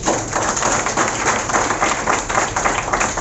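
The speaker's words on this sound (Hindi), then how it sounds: "एक जोरदार ताली बजा" A large Hindi-speaking seminar audience gives a loud, sustained round of clapping that stays dense and steady throughout, with no pauses.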